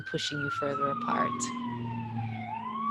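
Siren wailing outside and falling in pitch over a few seconds, heard distantly behind someone talking close up.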